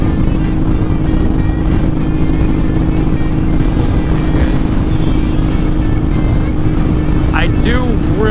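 A Honda Fury motorcycle fitted with a Cobra Speedster exhaust and Powerflo air cleaner, ridden at high RPM, a loud, steady engine drone with heavy wind rush and no pauses.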